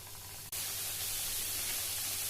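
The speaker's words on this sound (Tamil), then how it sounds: "அடுப்புல எண்ணெய மிதமான தீயில வச்சு இப்ப கட் பண்ண தேன் மிட்டாய்களை பொரிச்சு எடுத்துக்கலாம்" Cut honey candy pieces (thean mittai) deep-frying in oil over medium heat, a steady bright sizzling hiss that jumps up sharply after a brief dip as the pieces go in, with no talking.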